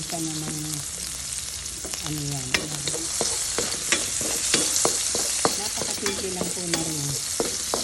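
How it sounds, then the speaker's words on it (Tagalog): Ginger, garlic and onion sauté in a hot pan with a loud, steady sizzle. Sharp clicks and scrapes of stirring punctuate the frying. "Lutuin na natin konti ang ating sibuyas. Habang ginigita po, lagyan na rin natin ng ating konting patis"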